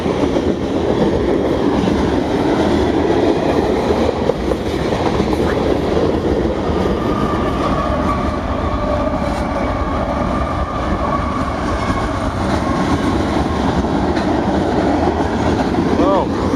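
A freight train of loaded covered potash hopper cars rolls past close by, a steady loud rumble with wheel clatter and faint squeals throughout, continuous and unbroken.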